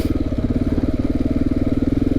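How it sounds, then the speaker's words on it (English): A KTM 690 motorcycle engine chugs at very low speed on a dirt trail, a loud, close, rhythmic thumping pulse that stays even throughout. "The bike does not want to go that slow. It's, if I get below 10, it starts to really chug."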